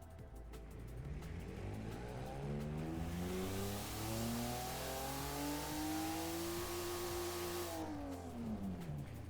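A flat-six car engine in the video game Automation, about 667 horsepower, revs up through climbing, rasping harmonics, holds at high pitch, then winds back down, loud and close with no voices.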